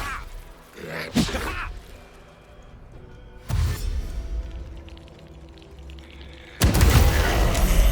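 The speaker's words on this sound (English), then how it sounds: "was quite the explosion" Explosions in Baldur's Gate III combat burst out in three sharp booming hits, spaced a couple of seconds apart, the last loudest and most sustained, over quiet game ambience.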